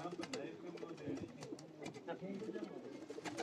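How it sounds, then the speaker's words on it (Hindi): Breeder pigeons coo softly in a loft, a steady low murmur of several birds with voices talking over them. "ये ब्रीडर कबूतर हैं"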